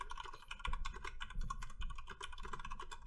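Quick, continuous clicking of a computer keyboard being typed on, close and fairly quiet, with no talking.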